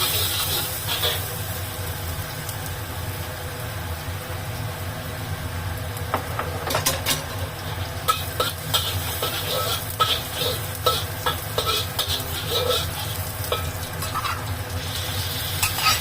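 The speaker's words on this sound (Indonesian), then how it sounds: "Aku masukkan jahe dan juga bawang putihnya." Ginger and garlic frying in hot oil over medium heat, a steady broad sizzle running throughout with scattered crackles and utensil clicks, close and moderately loud, no talking.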